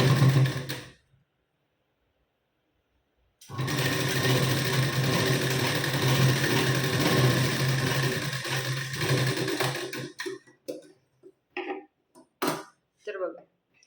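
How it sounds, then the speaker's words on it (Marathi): A sewing machine stitches a folded one-inch blouse strip, running a new seam over an earlier line of stitching. After a silent gap it runs steadily for about six seconds, then gives several short stop-start bursts. "आता इथं आपण शिलाई देऊन घेऊ."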